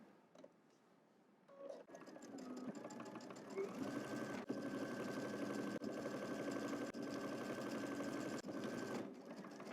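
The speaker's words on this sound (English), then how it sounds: "You can reinforce that corner there by backstitching a few times." A sewing machine backstitching a seam corner starts after a quiet pause, then runs in a steady, fairly quiet mechanical chatter broken by brief stops as it reverses direction.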